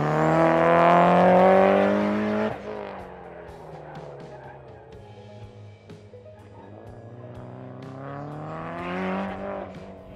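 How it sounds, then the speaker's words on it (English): An all-wheel-drive Mitsubishi-engined Miata at an autocross, engine loud and revving hard, with tires squealing as it pulls through a corner, easing off midway, then building power again toward the end. "We'll let this all-wheel drive Mitsubishi Miata take us to the next corner."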